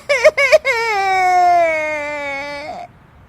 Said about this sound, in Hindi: उसकी रोने की आवाज सुनकर सभी वहां आ जाते हैं।